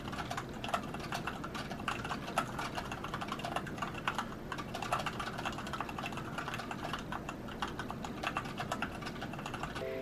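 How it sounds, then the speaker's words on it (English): Someone types on a full 104-key gaming keyboard with Cherry red switches, giving a quick, steady stream of soft key clacks with a faint hum underneath, close and without any voices. "The red cherry switches claim to have up to a 60 million click lifespan, and this is a full 104 key gaming keyboard."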